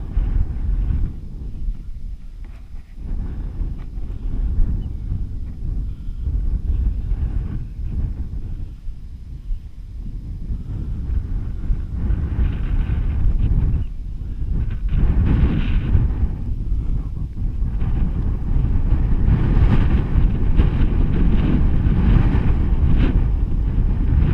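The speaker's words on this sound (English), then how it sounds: "Wind's picking up." Strong wind blowing outdoors in open countryside, a steady low roar buffeting the microphone throughout, building in force toward the end, with no talk over it.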